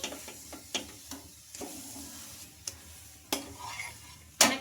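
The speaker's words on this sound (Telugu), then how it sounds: "ఇది కూడా రెండు వైపులా బాగా ఫ్రై అయిపోయింది" A green gram paratha frying in a pan gives a soft sizzle broken by sharp scraping clicks of a spatula turning it, close and fairly quiet.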